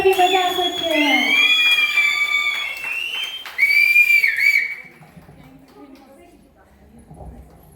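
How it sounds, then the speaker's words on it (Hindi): Several people whistle at a farewell party, with loud, shrill, overlapping whistles up close and cheering voices mixed in. The whistling fades after about five seconds into quieter room noise. "मैम सीटियाँ आती है तो सीटियाँ भी बजा सकते हैं।"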